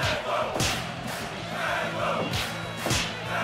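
Video game wrestling crowd roars steadily through an arena, a dense cheering wash with swelling shouts after an airplane spin move, loud and continuous with occasional thuds beneath.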